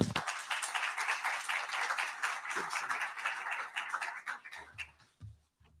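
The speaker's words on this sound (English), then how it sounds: "Give him a round of applause" A room of people gives a round of applause for a county supervisor at a morning event, brisk clapping that thins out and dies away into scattered handling noises near the end.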